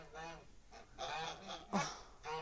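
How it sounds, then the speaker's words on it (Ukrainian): Domestic geese honking in flight over a rural Ukrainian farmyard: a steady run of harsh, overlapping honks, moderately close, continuing without pause, with no speech over them. "Летять, летять мої гусі."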